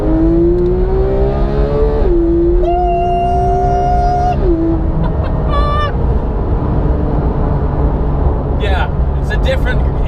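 An Audi R8 V10 Plus sports car accelerates hard, its engine note climbing in pitch through several gear changes, loud and close, with a voice speaking over it.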